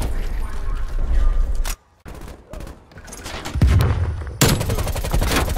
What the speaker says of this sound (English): a sentry gun's wild there